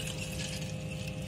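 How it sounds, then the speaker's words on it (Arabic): Water pours steadily in a brief, soft stream with a hollow splashing texture, filling a dish for hatching quail chicks. "احط فيها ميه، احط فيها ميه اهو"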